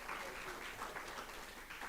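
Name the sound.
audience applause at a meeting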